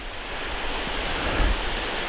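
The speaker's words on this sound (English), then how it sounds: "this little creek that's running underneath of it, and around it is beautiful" Water of a small creek running beneath the Natural Bridge of Virginia, a steady broadband rush that swells slightly midway, continuous and fairly close, with no voices.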